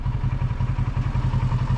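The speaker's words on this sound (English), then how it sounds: "Those are huge boxer engines." BMW motorcycles with huge boxer engines idle close by, a steady, even throbbing pulse that runs without a break and with no talk over it.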